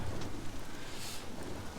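Rain hisses steadily while a low thunder rumble rolls underneath, briefly swelling in the middle of the short stretch, from the video game Days Gone.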